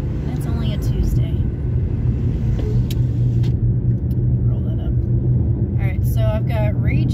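Heavy road traffic with trucks rolls past in a constant loud low rumble, heard from inside a moving vehicle, with brief voice sounds scattered through.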